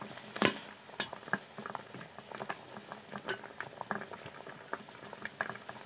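Ayurvedic hair oil with fenugreek and black cumin boils in a pan, giving a steady, faint bubbling and spitting crackle with scattered sharper pops throughout.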